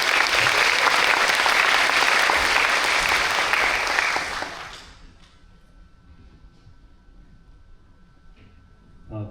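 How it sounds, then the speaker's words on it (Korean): A large audience at a special lecture claps loudly and steadily for about four seconds, then the applause stops abruptly, leaving quiet room tone with a faint hum. "큰 박수 부탁드립니다"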